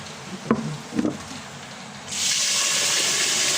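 A couple of soft knocks, then a steady rushing stream of water starts and keeps flowing, like water running into a pot.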